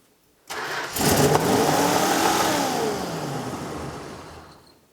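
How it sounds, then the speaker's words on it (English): A Dodge Monaco's engine cranks and catches abruptly, then roars into a loud sustained rev before slowly winding down, heard close with no talking. "it revved"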